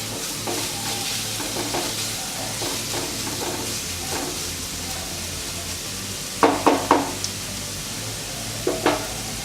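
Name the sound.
stirring pork pepper roast in a pan over medium flame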